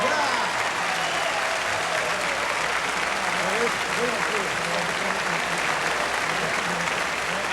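A crowd at a Molson brewery excellence awards ceremony applauds an honoree from security and services, steady dense clapping throughout with a few voices faintly audible underneath.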